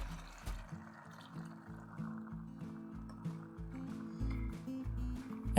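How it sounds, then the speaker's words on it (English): Half a cup of lemon juice is poured into a pot for a Greek artichoke dish, making a faint, low, glugging splash in uneven pulses close by. "Now we're adding a 1/2 cup of lemon juice."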